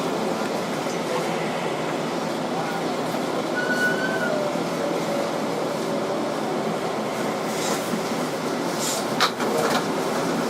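Steady interior rumble of a 2012 Kawasaki R188 subway car running on the 7 train in Queens, a continuous mid-level roar with faint squeals and brief clanks, no talk.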